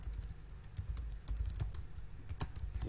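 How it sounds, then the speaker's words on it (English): Rapid, uneven keystrokes on a computer keyboard fill the whole stretch, close and continuous, with no voices. "now you can see what I'm typing"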